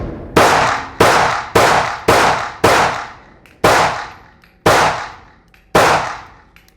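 Eight sharp shots from a Smith & Wesson M&P9 M2.0 Compact 9mm pistol on an outdoor range, loud and close, fired at a steady, moderately quick pace with ringing decay after each.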